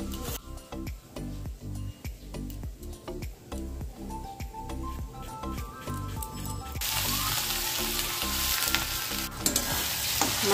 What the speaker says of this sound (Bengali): চিচিঙ্গা ভাজা করব